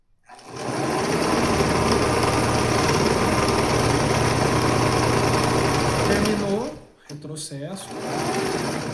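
A sewing machine stitching thick fabric for knitted caps runs loud and continuous for about six seconds, a fast even mechanical whir, then stops, followed by brief handling noises and a short burst of stitching again.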